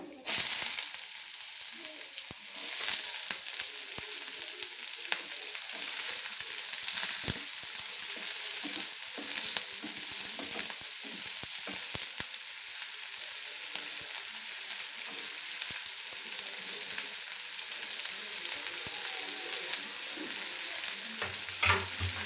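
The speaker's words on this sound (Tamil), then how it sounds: "வெங்காயம் நல்லா வதங்கிட்டுங்க" Onions, mustard seeds and chana dal frying in a pan for egg paniyaram give a steady close sizzle, broken by occasional clinks and scrapes of stirring, with no voices.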